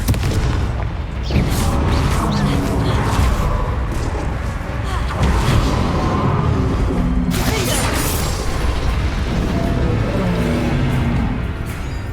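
Confringo blasting spell bursts in Hogwarts Legacy, a dense continuous rumble of booming blasts with sharp bright flares around a second in and again near seven seconds, loud throughout with a voice faintly underneath.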